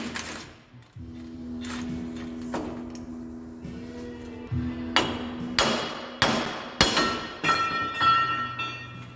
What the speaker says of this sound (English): then we'll just hammer on the knuckle a little